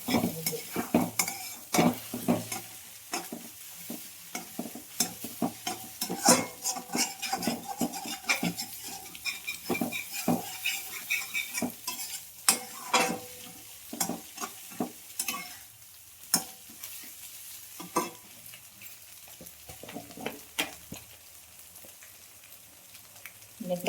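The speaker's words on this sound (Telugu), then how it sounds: "బాగా ఇలా పొడి పొడిగా వచ్చేలాగా కలపాలి బాగా వేగాలి" Egg fried rice is tossed in a pan with a spatula, giving irregular scraping strokes and metallic clinks over a light, continuous sizzle for a long, close stretch.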